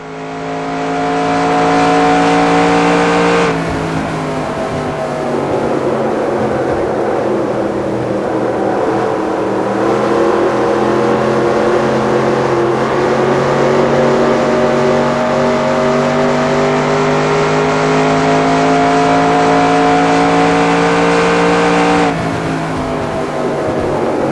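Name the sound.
race car engine revving on a lap at Homestead, NR2002 video game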